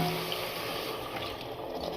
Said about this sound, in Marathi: अर्धा ग्लास पाणी